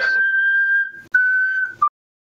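A person whistles two short, steady tones close by, the second ending with a brief lower note, then silence.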